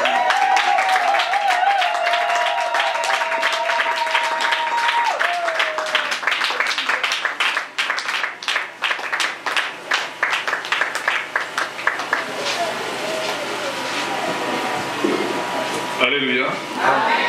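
Congregation at a women's church day gathering breaks into loud sustained applause and cheering, dense rapid clapping with shouts and a high sustained vocal tone early on, a crowd voice rising over it before it thins toward the end.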